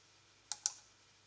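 Two quick, quiet mouse clicks on a web page button, close and crisp, separated by a short pause against near silence.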